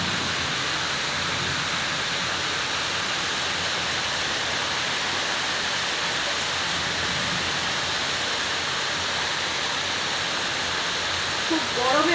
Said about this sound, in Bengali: খুব গরমেও বাইরে বৃষ্টি হচ্ছে